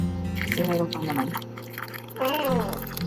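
Leftover whey water from making homemade cream cheese is poured out of a full container, a soft liquid trickle and drips heard under steady close talking.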